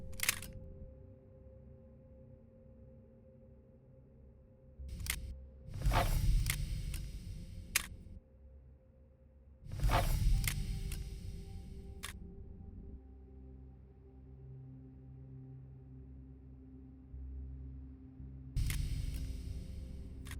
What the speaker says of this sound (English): So I use a shutter sound, but only small fragments of it.